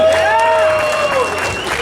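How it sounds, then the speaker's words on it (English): Applause and cheering from a live crowd at a roast during a vaping convention, loud and close, with voices and tonal calls rising over the clapping. "Let's give a round of applause to the guys from Blooms at Hazard"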